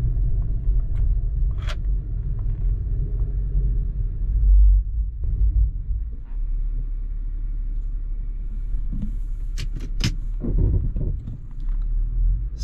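A 2011 Infiniti FX35 rolling slowly down a driveway with a suspected brake problem: a low engine and road rumble throughout, with a few brief, sharp squeal-like bursts near the middle, no speech.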